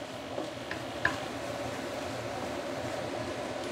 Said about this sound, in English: saute this curry paste for at least about 5 minutes